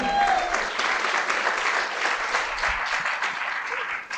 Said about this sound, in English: Let's get a round of applause to those great coaches as well